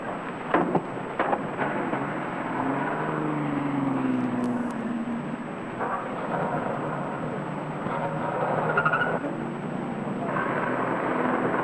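A car is backed up and parked in stall 7 of a garage, its engine giving off a continuous low, rumbling drone whose pitch shifts as it moves, heard alone without talk.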